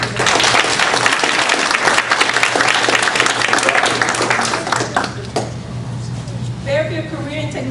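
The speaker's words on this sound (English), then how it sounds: "Let's give all the students from Giger another round of applause" An audience at a school district board meeting applauds honoured students with a dense, sustained round of clapping, loud and close, that thins out toward the end as a voice begins speaking over it.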